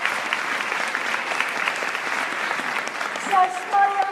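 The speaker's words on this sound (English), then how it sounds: "give them a big clap" Audience applause at a stage show, a dense, steady wash of clapping from a crowd that holds throughout, with a few voices calling out near the end.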